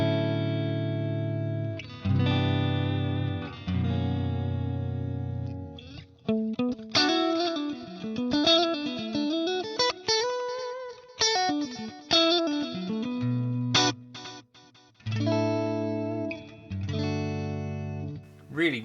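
An electric guitar runs through a Marshall JCM800 amplifier with effects, moving from sustained chords to quick single-note runs and back to ringing chords, loud and continuous with no voices.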